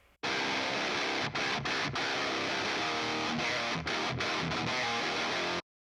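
Heavy distorted electric metal guitar riff through an amp with bass turned fully down and treble fully up, a thin, bright, fizzy tone in dense chugging phrases broken by short stops, loud and close with no voices.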